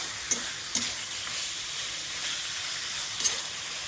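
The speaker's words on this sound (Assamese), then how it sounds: "মাংসটো বহাই দিলে পিঁয়াজখিনি ভজা হৈ যোৱাৰ পিছত এতিয়া হৈ যাব আৰু বেছি টাইম নালাগে" Broiler chicken meat frying with onions in a home kitchen, a steady low sizzle with a few sharp pops and stirring clinks, heard alone at moderate distance.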